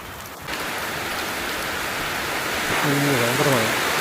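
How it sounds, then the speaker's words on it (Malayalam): Heavy rain pours down steadily in Kerala, a dense constant hiss that grows slightly louder, while a vehicle horn sounds briefly near the end. "ഭയങ്കര മഴ."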